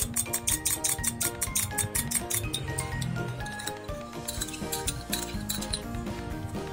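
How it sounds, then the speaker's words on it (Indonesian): An egg being whisked loose in a bowl with coconut water and sugar for wingko babat batter, giving a quick, steady run of light clinks and taps against the bowl, close and fairly loud. "satu butir telur, kita kocok lepas seperti ini"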